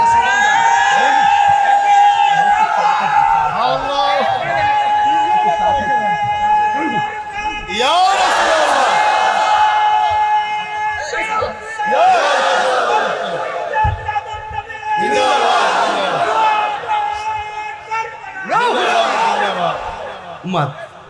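A large crowd at a Muharram religious gathering in Nasirnagar shouts a slogan in loud repeated bursts, each swell rising together and fading, with an amplified voice leading between them.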